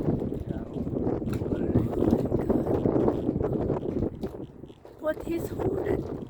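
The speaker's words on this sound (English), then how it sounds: "Not windy yesterday, it's windy" Strong wind gusting across a sailboat on the water, a steady loud roar with buffeting and rattling throughout, easing briefly before picking up again; people talk over it.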